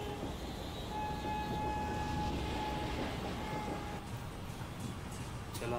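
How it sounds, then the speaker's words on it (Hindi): A late-running Hazrat Nizamuddin–Bandra Terminus Garib Rath Express rushes past, its steady loud rail roar and rumble filling the whole stretch, with a high whining tone riding over it and faint clatter toward the end. "बहुत ही गुस्से में जा रही है हजरत निजामुद्दीन बांद्रा टर्मिनस गरीब रथ एक्सप्रेस जो कि लेट चल रही है"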